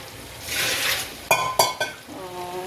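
A spoon stirs potatoes, soybeans and rice in a metal pot, with a soft scraping swirl followed by three sharp clanks against the rim, then a brief bit of speech.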